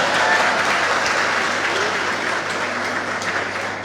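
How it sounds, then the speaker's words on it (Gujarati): Audience applause at a career guidance seminar in a hall, steady dense clapping from a large crowd that holds strong throughout and eases slightly toward the end. "તાળીઓના અવાજથી"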